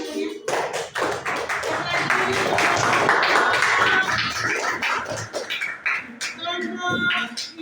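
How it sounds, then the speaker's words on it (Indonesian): Classroom of students clapping hands together in unison, a dense burst of sharp, close claps and taps lasting several seconds, with loose chatter mixed in and a few scattered claps trailing at the end. "Tepuk tangan dulunya."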